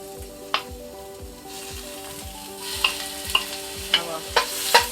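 Ginger dropped into hot oil in a pan for brown stew chicken, a steady close sizzle with a few sharp clinks and scrapes of a spoon toward the end.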